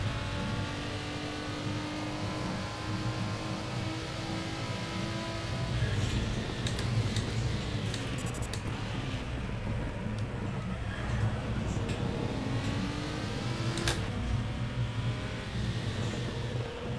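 A GT4 race car engine in the RaceRoom Racing Experience video game drones steadily for the whole stretch with slight swells in pitch, a continuous mid-loud motor tone and no voices over it.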